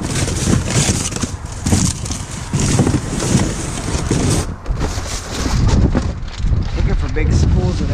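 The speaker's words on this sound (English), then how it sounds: "Whoa, that wind is picking up." Strong gusts of wind buffet the microphone outdoors beside a dumpster, rough roaring rumbles that rise and fall continuously, with someone talking over it.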